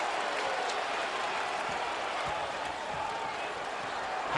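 A basketball arena crowd at a 2001 playoff game between the Jazz and the Mavericks roars steadily, a dense, continuous wash of cheering and clapping heard from within the stands.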